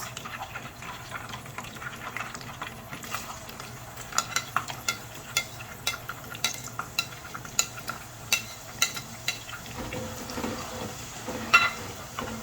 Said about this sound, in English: now we're going to add in our chopped onions